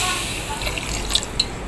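Water pours into a pan of sugar while making almond cashew burfi, a steady close splashing hiss.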